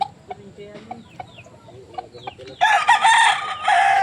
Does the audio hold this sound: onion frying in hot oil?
no